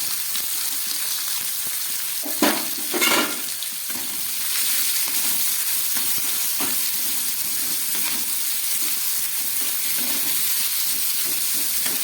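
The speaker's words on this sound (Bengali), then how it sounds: "পেঁয়াজগুলোকে আমি একটু ভালোভাবে ভেজে নেব" Chopped onions fry in oil with cumin and bay leaf, giving a constant close sizzle with a few brief scraping stirs early on.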